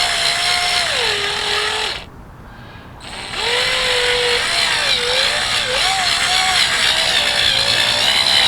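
A battery-powered drill whines loudly, stops for about a second, then runs again with its pitch dipping and rising as the speed varies, close by and steady.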